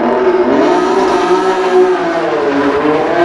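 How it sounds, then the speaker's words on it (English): A Honda NSX V6 fitted with Toda individual throttle bodies revs hard into VTEC, a loud, sustained high-pitched scream climbing in pitch, close up with no talk. "you're actually gonna get to hear VTEC scream here in a minute"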